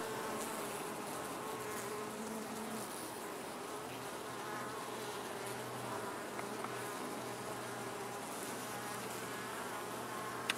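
Honey bees buzz during a hive inspection, a dense, continuous hum of many insects at fairly low volume with no voices over it.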